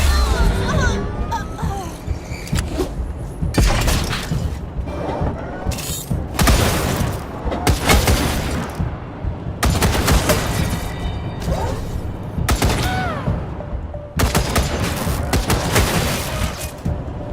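Gunfire in a western video game, repeated loud cracks and booms in irregular bursts mixed with clattering mechanisms and whooshes, with occasional shouted voices between shots.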